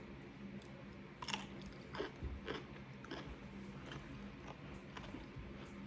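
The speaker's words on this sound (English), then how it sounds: "There's a crunch." Someone bites into and chews a crunchy homemade sweet pickle, with a series of sharp, close crunches and wet chewing clicks spread over several seconds in a quiet kitchen.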